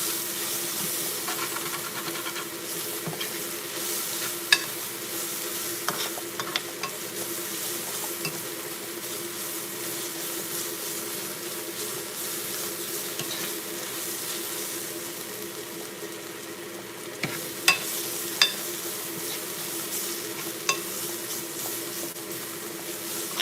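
Onions frying in a pan over very low heat give a soft, steady sizzle and hiss, with occasional faint clicks and stirring scrapes, continuous and close with no talking.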